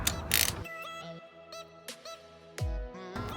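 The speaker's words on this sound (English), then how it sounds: "We're going to start by using a 5mm Allen on an extension." A ratchet driving a 5mm Allen bit on an extension works bolts on a 2001 Yamaha R6 motorcycle, giving close, bright clicking and metallic mechanism sounds in short bursts with pauses between.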